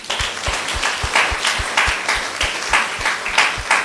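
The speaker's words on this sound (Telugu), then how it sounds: "క్లాప్స్ కొట్టండి అందరూ" Rhythmic group clapping during a spiritual talk, close and fairly loud, with regular beats marked by low thumps, likely a drum, keeping time underneath.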